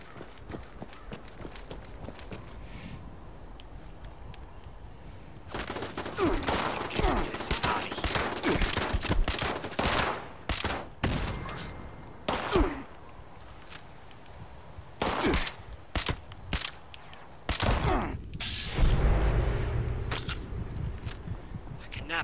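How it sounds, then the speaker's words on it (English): Shotgun blasts in the Fallout 76 video game ring out as several sharp, loud bangs at irregular intervals, mixed with rapid rattling fire, running footsteps and hoof-like clatter across a busy combat scene. "A shotgun. He's not supposed to shoot that far."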